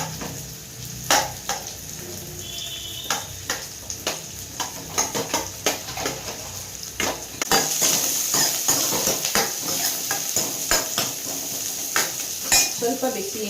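Food fries in a pan until brown, with a soft sizzle under repeated scraping and clinking stirs from a utensil against the pan, close by and growing busier partway through.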